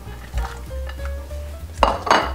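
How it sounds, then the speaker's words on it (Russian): Chunks of potato and carrot rings drop into a pot of smoked-meat pea soup, giving a few dull clunks and knocks against metal near the end, with quiet kitchen background before. "Теперь настало время положить картошку в суп, морковочку колечками"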